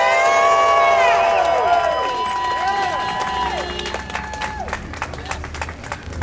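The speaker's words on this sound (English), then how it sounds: "let's give a round of applause to our state representative, Debbie Phillips." An outdoor political rally crowd applauding and cheering for a state representative, dense clapping mixed with whistles and shouts that gradually thin out to scattered claps.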